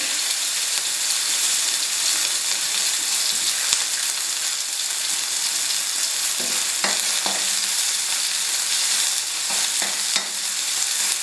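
Green chili and onion fry with cumin in hot oil for Nepali-style dal, a steady loud sizzle broken by a few scraping stirs of a utensil against the pan.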